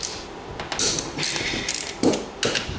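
A ratchet loosens over-torqued bolts on a Yamaha Banshee engine case during case splitting, giving several loud close bursts of quick clicking separated by short pauses, with no talking.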